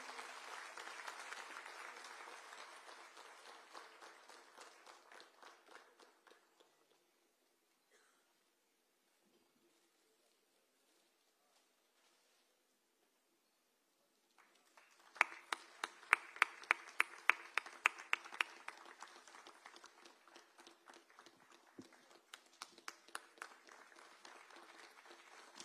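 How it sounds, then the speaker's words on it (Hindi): Applause from a lawyers' bar association gathering welcoming a guest, a steady crowd clapping that fades out, then after a pause resumes with sharper, closer individual claps, fairly faint overall. "और सर के स्वागत के लिए जोरदार तालियों से"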